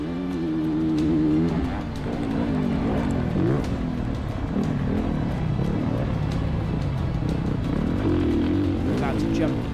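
A 450cc four-stroke dirt bike pulls hard up a long hill, its engine note rising and wavering under full throttle as it claws for grip, loud and sustained throughout with only brief dips.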